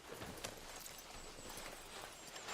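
Horse hooves clip-clopping at a steady pace in Red Dead Redemption 2, a continuous rhythmic clatter heard fairly close with no talk over it.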